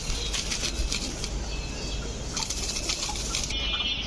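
Pigeons flapping their wings nearby, a brief flurry of fluttering against a steady background hum.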